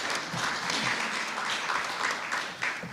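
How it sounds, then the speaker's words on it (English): An audience at a stakeholder roadshow event applauds, a dense continuous patter of many hands clapping at moderate distance for a few seconds, without talk. "Let's give you another round of applause."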